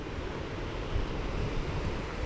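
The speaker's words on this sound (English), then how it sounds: "Water's running fast as well." Fast-running river water near Gayle Hardraw waterfall makes a dense, steady rushing roar with slight surges, close to the microphone and with no voices.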